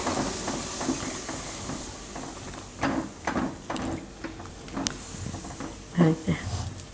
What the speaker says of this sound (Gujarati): આમાં આપણે દૂધ નાખી દેવું એકદમ આરામથી. અને મિક્સ કરી લેવું.